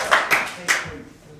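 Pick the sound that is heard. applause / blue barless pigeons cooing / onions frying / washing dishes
applause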